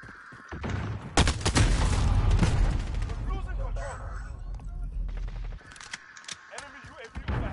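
Bursts of gunfire from a PS4 shooter game crackle in sharp clustered volleys and booms, with a person talking in between and over the shots.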